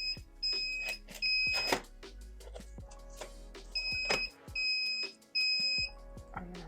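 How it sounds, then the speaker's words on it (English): A tattoo stencil printer gives short repeated electronic beeps in paired bursts, with mechanical clunks and handling noises between them. "So that means that beeping is probably done."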